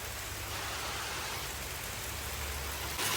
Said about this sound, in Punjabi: ਲਓ ਜੀ ਭਾਈ ਪੂਰਾ ਤਗੜਾ ਮੀਂਹ ਪਿਆ